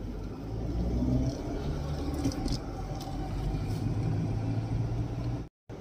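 Inside a car driving away from a university campus, a steady low engine rumble and road hum continue throughout, with a brief dropout near the end.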